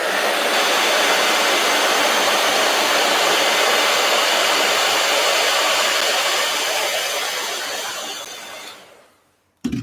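A heat gun blows a loud, steady roar of hot air close by, holding constant for several seconds before cutting off abruptly near the end.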